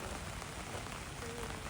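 Steady rain pouring and splashing on surfaces near a beach, a dense continuous hiss that fills the brief moment with no voices.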